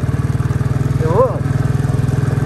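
A motorcycle carrying two riders on a rainy road in Pokhara gives a steady, close, pulsing engine drone throughout, with a brief voiced sound midway.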